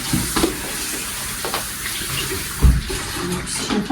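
Water bubbles and churns at a rolling boil in a pot, a steady close gurgling hiss with an occasional louder splash or knock.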